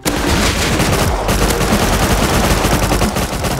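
Loud, close gunfire from the video game Rust, with rapid automatic bursts fired almost nonstop for the whole stretch.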